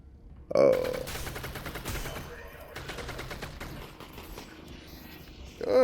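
Gunfire in a firefight in a PCVR video game, loud bursts of rapid shots cracking in quick succession with sharp peaks near the start and end, while a player talks over the action.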